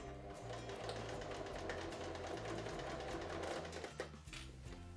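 A sewing machine or overlocker runs continuously while stitching around an elastic waistband, a fast, steady mechanical whirring with rhythmic needle clatter, close and loud for the whole stretch with no talking.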